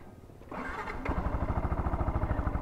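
A small motorcycle engine cranks and catches, then settles into a close, steady, rhythmic idle thump that continues to the end, with no talk.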